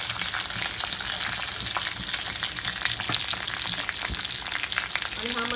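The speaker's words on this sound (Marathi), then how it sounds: "हा मसाला आहे तो सर्व आपण चांगला फ्राय करून घ्यायचा चांगला" Garlic and masala frying hard in a hot pan for a Malvani bombil masala, a steady dense sizzle with crackling spits and occasional stirring clicks, close and continuous with no talk.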